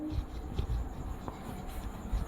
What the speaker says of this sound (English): I'll write here